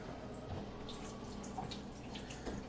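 A blender jar is rinsed under a running sink tap during a home brewing session. The water is a quiet, steady splashing with a few faint drips and no talking.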